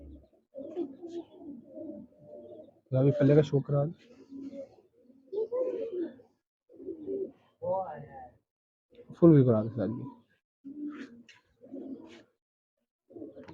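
Golden pigeons coo softly in short repeated phrases with brief pauses, quiet and close, while someone talks over and between the calls.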